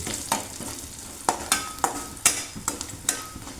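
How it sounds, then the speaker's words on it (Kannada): Spices, salt and turmeric being stirred in a pan for mandakki khara, a North Karnataka snack, with a light sizzle and sharp spoon scrapes and taps against the metal at an irregular pace. "ಹಾಕ್ಕೊಂಡು ಈಗ ಚೆನ್ನಾಗಿ ಮಿಕ್ಸ್ ಮಾಡ್ಕೊಳ್ತಾ ಇದ್ದೀನಿ"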